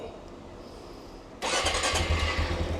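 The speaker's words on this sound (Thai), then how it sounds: "เช็คสภาพ ฟังเสียงเครื่อง" A Honda CT125 motorcycle engine cranks and fires after an air filter change, jumping from a quiet background to a loud, steady idle that runs to the end.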